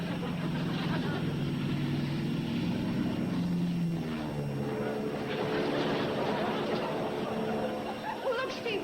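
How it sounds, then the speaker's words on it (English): A small propeller plane flying overhead, a steady droning engine hum with a shifting pitch, heard continuously beneath people talking. "Big deal, so Steve's flying around in his plane."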